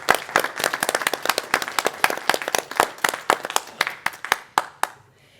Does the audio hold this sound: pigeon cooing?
no